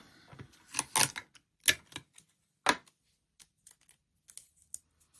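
Sticky tape being torn off for a handmade Easter card, a few sharp ripping bursts near the start, then fainter short crackles and taps on a quiet background with no talking.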